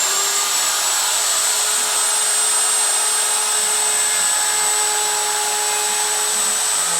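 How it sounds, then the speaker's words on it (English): Wood router running steadily on a knotty pine edge for a drawer front, a loud continuous high-pitched motor whine with no pauses and no voices. "So I'm going to start the router."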